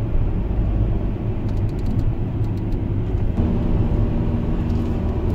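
Car driving on a mountain road in Norway: a steady, loud low road and engine rumble from inside the cabin, with faint light ticking above it and no talking.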